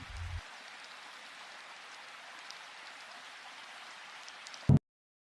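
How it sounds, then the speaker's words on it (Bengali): Light drizzle falls steadily in an animated cartoon, a soft even hiss of fine rain with no talking, ending in a brief low thump before silence. "তখন গুঁড়ি গুঁড়ি বৃষ্টি পড়ছিল।"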